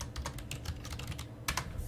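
Rapid typing on a computer keyboard while entering a command to run Java code on a Windows 10 PC, with steady close clicking keystrokes and a brief flurry of louder taps near the end.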